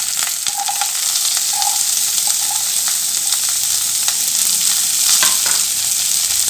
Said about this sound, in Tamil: இப்போ இதை நல்லா வதக்கி கொடுத்துக்கலாம்.